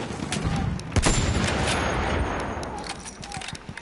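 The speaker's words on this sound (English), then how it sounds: "Machine gun, hostile." Sustained video-game battlefield gunfire with a hostile machine gun rattling in rapid bursts, mixed with scattered rifle shots and distant booms, loud and continuous throughout with some voices underneath.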